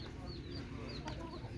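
A rooster in a village yard makes a few faint, brief clucks, soft and somewhat distant over a low background rumble.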